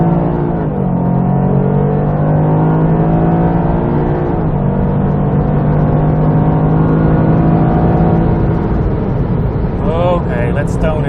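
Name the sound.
Toyota GR Yaris accelerating at full throttle on on-ramp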